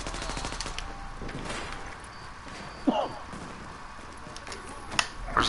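Video game gunfire crackles in bursts of rapid shots amid faint background game noise and a couple of sharper impacts, fairly quiet and without clear talk.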